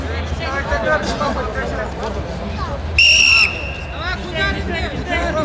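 A referee's whistle at a kuresh belt-wrestling bout during a Sabantuy festival in Domodedovo gives one sharp, shrill blast of about half a second, cutting through loud crowd babble and chatter that continue throughout.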